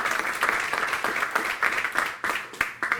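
Applause from the audience at the close of a Spanish-language conference talk on architecture, a dense, sustained clapping that swells in uneven bursts with no voices on top.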